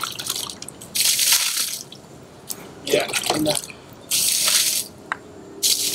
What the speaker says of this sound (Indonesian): Jadi kita siram-siram aja di sini.